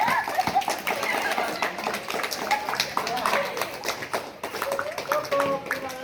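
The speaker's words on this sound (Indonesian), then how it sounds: "3, tepuk tangan." A group of participants at a school traditional-game activity claps hands in a quick, uneven patter that runs throughout, with voices talking over the clapping.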